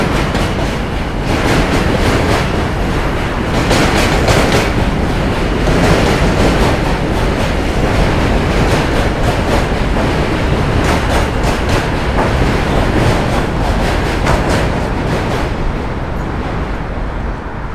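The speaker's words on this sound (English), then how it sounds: "M-train." A New York City M subway train rushes past loudly with a steady roar and rhythmic clacking of wheels over rail joints, fading slightly at the end.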